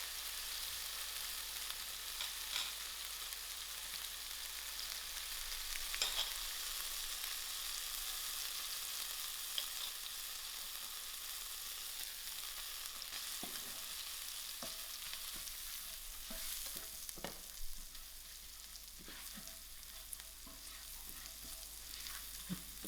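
Ginger, garlic and spices frying in a pan for peas kachori, giving a steady soft sizzle throughout with occasional faint clicks and stirring taps.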